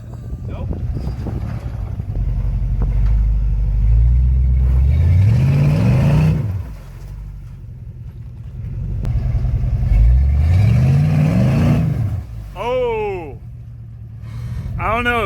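A Jeep engine revs hard on the gas in two long, loud surges with rising pitch, broken by a brief dip, with wind buffeting the microphone and voices talking over the engine.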